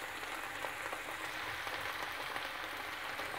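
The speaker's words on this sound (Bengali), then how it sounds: "এখন আমি এই সয়া সসের সাথে আরও 2 থেকে 3 মিনিট ভাজব" Chilli chicken frying with soy sauce over raised heat, a steady dense sizzle with crackling spatter throughout, close and continuous with no voices.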